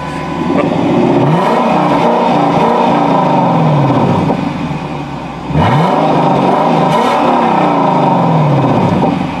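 Lexus LC400 engine revving loudly through its dual exhaust, with repeated rising and falling sweeps, a brief dip before another sharp rev, close and dominant throughout.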